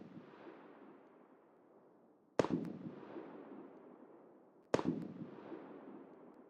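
Two loud, isolated gunshot reports from an M60 machine gun in a video game, each a sharp crack with a long echoing decay, a couple of seconds apart, over a low background rumble.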